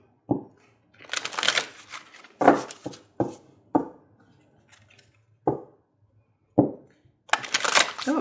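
An oracle card deck is shuffled in several separate bursts, crisp riffling and slapping sounds up close with quiet gaps between them.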